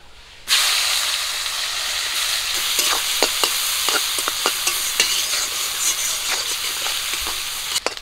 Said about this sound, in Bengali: গরম তেলে দিয়ে দিচ্ছি পেঁয়াজ কুচি আর কাঁচা লঙ্কা চিরা।